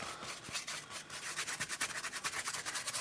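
A paintbrush rubs paint over a model robot city piece, giving a soft, scratchy brushing texture in quick repeated strokes that grows more rhythmic toward the end, close and fairly quiet.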